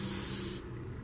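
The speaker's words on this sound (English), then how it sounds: "some people use a Scotch-Brite pad for the clouds. They'll spray through it like this" A short burst of airbrush spray hissing through a Scotch-Brite scouring pad, loud for about half a second, then cutting to a softer hiss.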